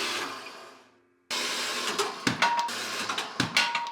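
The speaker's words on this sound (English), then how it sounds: "going to hop over on the bandsaw and get this bad boy cut into 4 more sections" A bandsaw cuts a steel billet for a chef knife: one steady motor whine fades out, then restarts loud and close with the blade grinding through metal, rising and falling under repeated strain.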